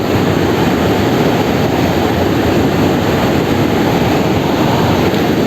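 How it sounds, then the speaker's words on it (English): Constant loud roar of water gushing through a dam at Mukutmanipur, a dense unbroken wash of noise, with no talking. "The gushing sound of the water."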